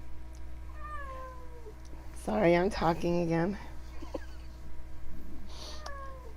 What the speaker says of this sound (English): That poor cat.